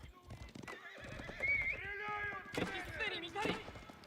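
Charging knights' horses in an Age of Empires IV tournament match: neighs and whinnies over hoofbeat clip-clops, with a caster talking throughout.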